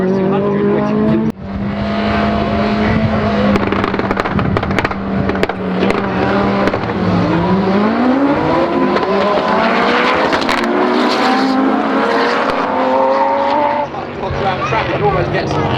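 Retro rallycross cars, including an Audi Quattro, Ford RS200 and Escort Cosworth, race at Silverstone with loud, overlapping engines rising in pitch as they accelerate, and a commentator talks continuously over them.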